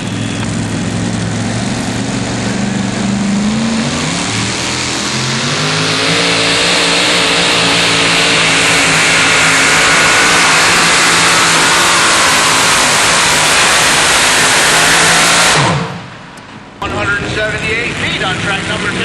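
The Hemi Hauler Dodge truck roars at a truck pull in Jackson, Tennessee, its engine loud and climbing in pitch under sustained revving for about fifteen seconds before cutting off abruptly, with an announcer's voice over it.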